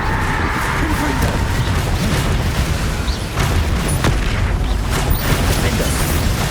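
Fire-spell explosions from Confringo casts in the Hogwarts Legacy video game, a steady rumbling blast with repeated booming bursts and crackling impacts, loud and continuous throughout amid other combat noise.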